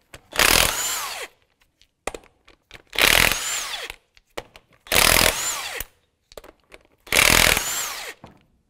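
A power impact tool spinning off 19mm lug nuts to remove a wheel from a 2002-2005 Ford Explorer, four loud bursts of about a second each, separated by short pauses and small clanks, close by.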